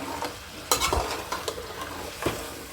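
A spoon stirs Malvani mango raita mixed with jaggery and salt, giving several sharp, close scraping clicks over a soft wet background.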